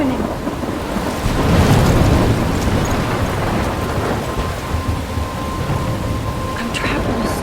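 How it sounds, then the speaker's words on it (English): Thunderstorm in the video game Life is Strange, with steady heavy rain and a deep rumble of thunder swelling near the start, loud and continuous throughout with wind mixed in. "I'm trapped in a storm?"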